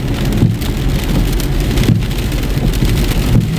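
Heavy rain pounds steadily on a car windshield during a thunderstorm at a Kwik Trip stop, a dense close drumming wash with low rumbling underneath.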